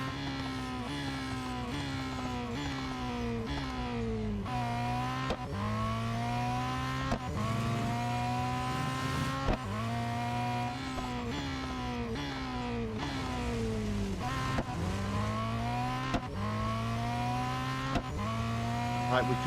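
Race cars in the mobile racing game Real Racing 3 during a Ferrari event, engines revving up and down through repeated gear shifts in a steady rising-and-dropping pattern, with occasional tire squeal, loud and continuous.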